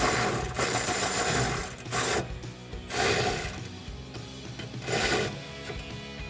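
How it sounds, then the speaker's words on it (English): An 18 mm socket wrench loosens a bolt near the tow hook on a 2019-2020 Chevrolet Silverado 1500, giving repeated close ratcheting clicks in bursts with scraping metal rubs between them. "we're just gonna take an 18 millimeter socket and remove that bolt"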